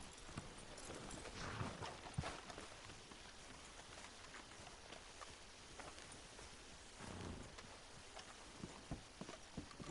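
Faint horse hoofbeats in Red Dead Redemption 2 clip-clop along at a steady walking rhythm, with soft outdoor ambience and no talking.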